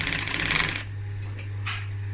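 A sewing machine stitches leatherette and fabric together for a Citroën C15 seat cover, running in a fast, loud, rapid rattle for under a second before stopping, leaving a low steady hum with a couple of soft handling noises.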